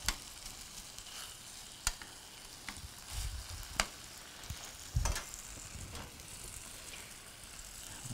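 Chicken and peaches sauté in a pan with chipotle sauce, a soft steady sizzle broken by occasional clinks and scrapes of a utensil.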